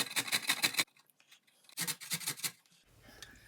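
Carrots rubbed against a grater for shepherd's pie, two bursts of quick rhythmic rasping strokes separated by a short pause, close and fairly loud, with faint clatter afterward.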